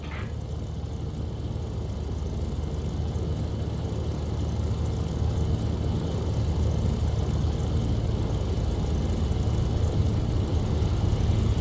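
A propeller airplane engine in the video game War Thunder drones steadily throughout, a constant close rumble that swells slightly as it goes on, with no voices.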